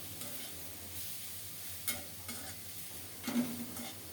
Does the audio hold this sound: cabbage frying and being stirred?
yes